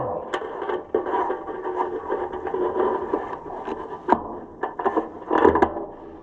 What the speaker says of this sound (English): Bet you didn't know your drill was also a deburring tool.